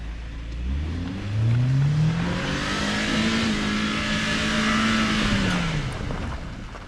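A car drifts on snow on a wintry forest road, its engine revving hard and climbing in pitch, then holding a steady high whine before easing off, loud and close with no talk.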